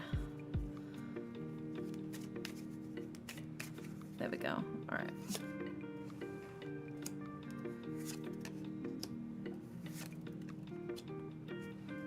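Rapid papery riffling and clicking of tarot cards being shuffled, continuous over a steady background hum, with a person speaking briefly.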